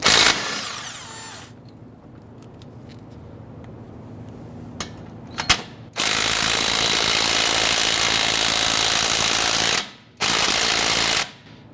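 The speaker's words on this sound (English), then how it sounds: "There is a 19mm slider pin bolt right here and then one on the bottom. I'll loosen and remove these." Loud bursts of an impact wrench loosening 19mm brake caliper slider pin bolts on a 2007-2014 Cadillac Escalade rear brake, a long rattling run followed by a shorter one, with a brief hammering start and quieter clanks between.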